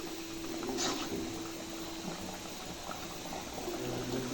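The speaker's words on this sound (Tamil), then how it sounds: "கொதி வந்தோடனே நான் இறக்கிடுறேன்." A pot of native chicken thanni kuzhambu, a thin chicken curry, simmers and bubbles on the stove with a soft, steady seething and faint pops, close and continuous with no talk.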